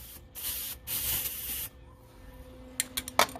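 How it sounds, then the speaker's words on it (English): An aerosol spray paint can is cleared of paint at the nozzle while working on a Bobcat 773 bucket latch: a steady close hiss in two long bursts, then quieter shop noise with a few sharp clicks and taps. "so let me get the paint out of the nozzle here"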